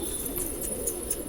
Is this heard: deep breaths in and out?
no